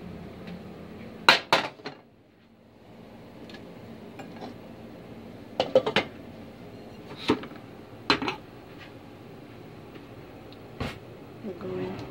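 Asian slaw with sesame ginger dressing is tossed in a bowl, giving irregular clinks and taps of utensils against the bowl while a person talks over it.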